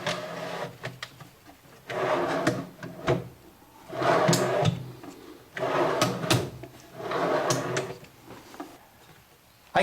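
A nightstand drawer on slides is pushed in until it locks, with repeated rolling, sliding and knocking of wood and metal in several close, loud bursts, no talk.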